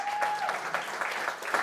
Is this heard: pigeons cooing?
no